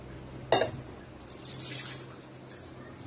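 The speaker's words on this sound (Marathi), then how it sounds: "आणि याची भांडी धुवून" A brief clatter and splash, then steady low running tap water while dishes are washed in a home kitchen during mutton cooking; close and fairly quiet, no voices.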